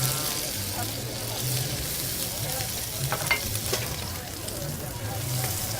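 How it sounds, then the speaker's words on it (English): Dry-packed scallops sear in a smoking-hot non-stick pan, giving a loud, continuous close sizzle with brief spatters and stirring scrapes, and no clear speech over it. "Our pan is hot. We want our pan smoking hot, right, guys? We have dry packed scallops. We're going to give a nice sear."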